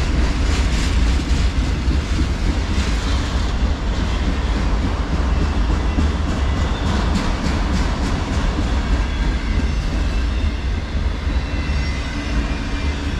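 A CSX manifest freight train with tank cars, hoppers, boxcars, auto racks and scrap cars rolls past close by, a loud continuous rumble with steady rhythmic wheel clatter throughout.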